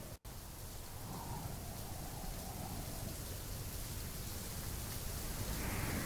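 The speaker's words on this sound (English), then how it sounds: "listen to the rain and try to pick out any sounds" Steady rain falls on a street in the video game Fallout London, a constant hiss of drops on hard surfaces with faint rumbling beneath, continuous and enveloping from start to finish.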